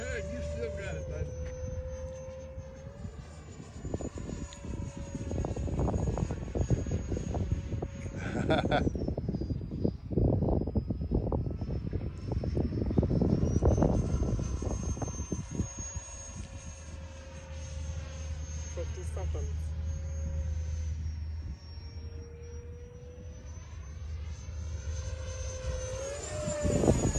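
A 64mm ducted-fan F-22 model jet flies past with a high, steady whine that rises and falls as it passes overhead, heard under people talking nearby outdoors.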